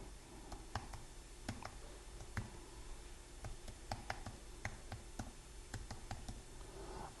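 Typing on a computer keyboard makes a steady patter of soft, close clicks at an uneven pace against low background hum, with no voices.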